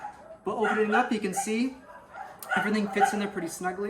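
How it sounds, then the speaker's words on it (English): Dogs barking in the background outdoors, distant yips and barks mixed under someone talking close to the microphone. "Sorry about the dogs."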